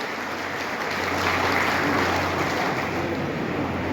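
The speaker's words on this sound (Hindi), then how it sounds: "जोरदार तालियों से उनका स्वागत करेंगे" Dense, steady applause from a large crowd welcoming former Chhattisgarh home minister Nanki Ram Kanwar at a BJP workshop in Korba, loud and continuous throughout with no voices over it.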